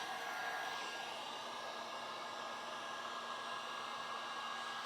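A heat gun blows steadily on the edge of matte paint protection film, a constant broadband hiss of airflow with a faint motor whine, close and unbroken throughout with no talking.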